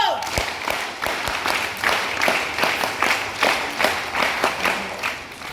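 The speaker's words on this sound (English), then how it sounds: "School clap, go!" A school audience claps in unison, a steady rhythmic beat of sharp claps at about three per second, continuing throughout, at a retirement ceremony.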